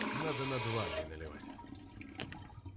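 A toilet flushes in Bright Lights of Svetlov, a rushing gurgle of water that swells and then drains away over a few seconds, fairly quiet, with someone speaking over the start.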